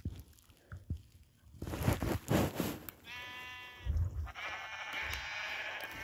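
Sheep in Minecraft bleat in two wavering calls, one mid-clip and a longer one near the end, after scattered thumps and shuffling; close and moderately loud, with no speech.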